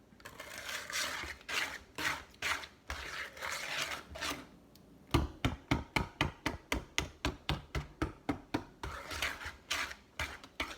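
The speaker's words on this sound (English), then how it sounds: "stirring that up pretty good" A spoon scrapes through chocolate chip cookie dough in a bowl in rapid, regular strokes. Up close, the rubbing grows into a quick, even rhythm partway through.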